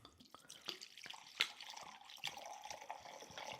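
Whiskey is poured into a measuring container for homemade Irish cream, making a faint, irregular trickle with small splashes and drips that continues steadily with no talk.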